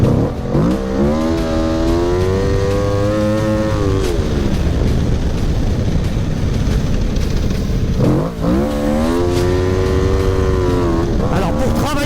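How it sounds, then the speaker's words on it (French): Motorcycle at a drift and flat-track riding meet, sliding into corners then exiting at full throttle; the engine revs rise and fall in two long sweeping surges, loud and close, with steady mechanical roar throughout. "On alterne donc entre entrée en glisse comme en supermoto et des sorties plein gaz comme en flat track."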